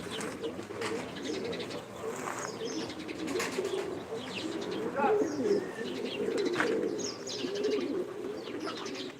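Pigeons or doves coo steadily with occasional chirps from other birds, a busy flock close by against a constant outdoor background.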